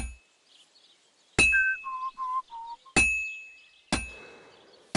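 Hammer blows on metal at an anvil in a Kingdom Come Deliverance 2 forge, four loud ringing clangs at irregular intervals, a whistling tone trailing the first and a short rasp after the third.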